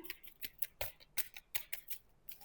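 A deck of cards is shuffled in quick, crisp riffling bursts, faint and close, with a rapid irregular flutter of snaps over a couple of seconds.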